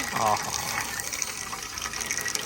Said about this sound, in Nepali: यहाँ पानी पनि आउँछ है फेरि बब्बाल पानी आउँछ यहाँ